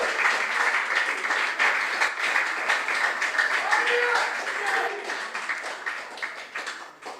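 A school audience claps for junior science and maths quiz contestants at a regional qualifier, with dense, sustained applause that stays fairly loud for several seconds before fading.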